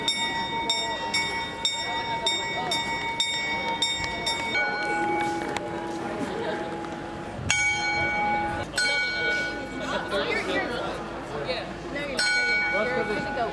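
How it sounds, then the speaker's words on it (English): A clock in Prague chimes repeatedly with ringing, bell-like strikes that overlap and sustain, loud against outdoor crowd murmur and voices talking nearby. "Are we waiting for the clock to chime?"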